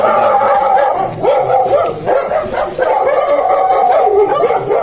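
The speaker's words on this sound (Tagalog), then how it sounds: "Dami mga aso." Several dogs bark and howl together, loud and close, in an overlapping, continuous chorus with yelps mixed in.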